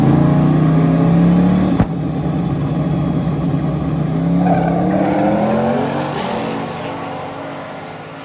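A drag race car launches down the track in the rain. Its engine roars loud and close and climbs steadily in pitch as it accelerates, with no talk over it.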